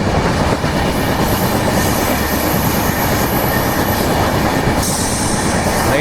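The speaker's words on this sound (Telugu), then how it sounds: "సో ఈ పక్క చూడండి మన ట్రైన్ కరువు తీసుకుంటుంది," The Prashanti Express passenger train rolls through a curve, with a loud, continuous rumble of wheels on rails, rhythmic clatter and high metallic squealing heard from onboard; no voices.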